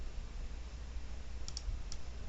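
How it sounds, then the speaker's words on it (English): A computer mouse clicks the Save Search button in quality-search software, a couple of faint, quick clicks close together with one more shortly after, set against a steady low background hiss. "I can click the Save Search button"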